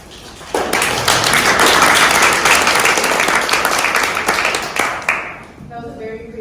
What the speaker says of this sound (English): That was a very preemptive applause